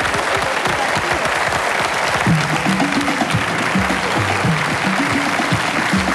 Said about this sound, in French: une arrivée sous vos applaudissements de Mademoiselle La Chamelle